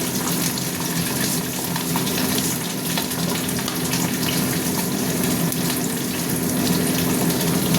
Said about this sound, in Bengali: মাছ দিয়ে দিলাম, মাছ ভাজা হচ্ছে